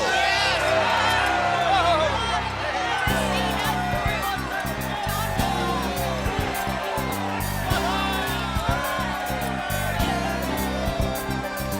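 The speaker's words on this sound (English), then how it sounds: "Shout, yell, scream, so that the heavens can hear you" A large crowd shouts, whoops and cheers together in a loud, continuous roar, with a steady musical accompaniment underneath, as in a Jericho-themed song scene.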